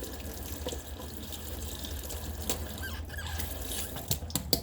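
Tap water runs steadily from a kitchen faucet while a tablespoon is rinsed under it, a soft continuous splash with a few brief clinks near the end and no talking.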